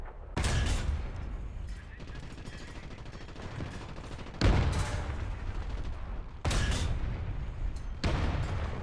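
Loud gunshots in a shooter video game, heavy booming reports at spaced intervals, with a sustained noisy rumble between shots.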